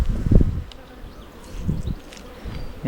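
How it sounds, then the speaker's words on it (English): Honey bees buzz around an open hive during an inspection, a close, low, fluttering drone that swells and fades. "Yeah, so a bunch of bees."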